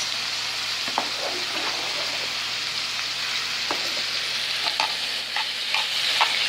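Ground turkey and onions frying in a pan, a steady bright sizzle throughout, broken by occasional light clicks and scrapes of stirring.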